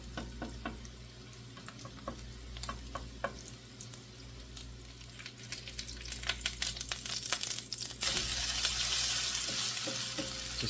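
Noodle patties frying in a pan, one at a time, with a steady close sizzle and scattered crackling pops that build louder and denser toward the end, no voices.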